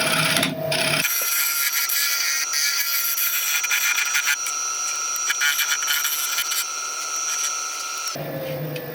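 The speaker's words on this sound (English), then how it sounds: "I'm going to get a scrape in there now just to put the final finish on it" A steady, sustained scraping hiss of a scraper shaving a spinning segmented ebony, oak and sapele turning on a wood lathe, close and continuous for several seconds, starting and stopping abruptly.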